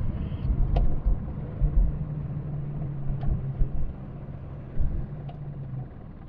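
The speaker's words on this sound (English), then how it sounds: "Oh, there's a water truck coming along there." A water truck drives past, heard from inside a Leyland Marina six-cylinder car as a low engine rumble that swells and fades over a few seconds with no talking.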